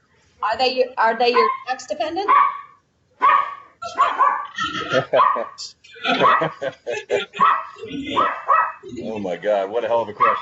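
A dog barks intermittently in the background of a meeting about insurance changes, its yips mixed under a person speaking close to the microphone.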